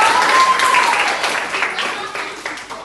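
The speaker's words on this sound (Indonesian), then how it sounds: "Tepuk tangan untuk Rindu." A classroom of pupils claps together in a burst of applause that fades out over a few seconds, with voices mixed in.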